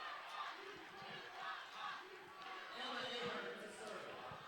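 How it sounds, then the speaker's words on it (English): Home crowd at a women's college volleyball match shouting a rhythmic signature cheer after a kill, distant and roomy, with chatter and a commentator talking over it. "The Havocs love seeing kills from Kyra Moss, as you can hear them in the background with her signature cheer."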